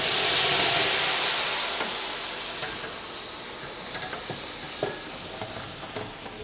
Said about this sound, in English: our oven is gaining a big cloud of steam in there